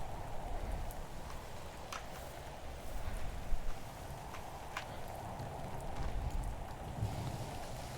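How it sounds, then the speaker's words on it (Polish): Acid rain falls in the Roblox game Natural Disaster Survival, a quiet steady patter of digital rainfall with scattered brief drop ticks, faint and without talk. "Kwaśny deszcz."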